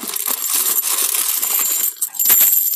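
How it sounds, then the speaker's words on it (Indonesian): A pile of Star Wars coins is handled and dropped, giving loud, continuous metallic jingling and clinking up close, with a brief lull and then a bright burst of spilling coins near the end. "Yuk, bro, kita lihat koin-koinnya, bro."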